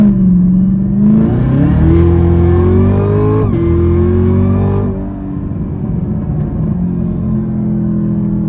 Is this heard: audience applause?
no